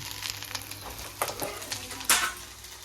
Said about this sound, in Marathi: बघा कसा पास्ता शिजते